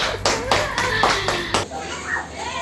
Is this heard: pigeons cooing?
no